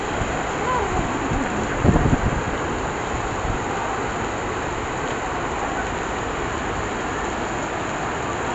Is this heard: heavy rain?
yes